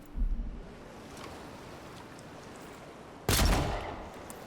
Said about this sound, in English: But let's just shoot a gun.